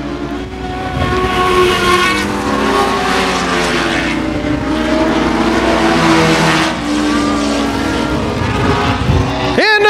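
Race cars roar around the 281 Speedway oval in a close, continuous multi-engine drone with shifting, overlapping pitches as the field passes, nearing the last lap, with a commentator talking over the noise.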